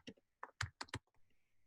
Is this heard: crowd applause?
no